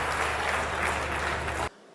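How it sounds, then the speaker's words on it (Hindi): Audience applause at a Hindi poetry recital, a loud, dense burst of clapping from a crowd that cuts off abruptly after under two seconds. "मैं चाहता हूं एक बार जोरदार तालियां बजाइए भाई सरदार"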